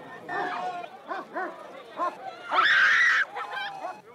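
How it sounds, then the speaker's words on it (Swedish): Police dogs barking amid a confrontation with Swedish greaser youths, several loud close barks in an irregular run with a longer howling yelp in the middle, mixed with voices. "Polisen sätter in hundar och använder batong."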